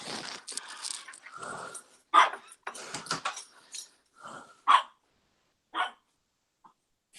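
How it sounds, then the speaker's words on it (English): A dog named Billy barks several times close by in a room, short sharp bursts spaced out with pauses between them. "My dog"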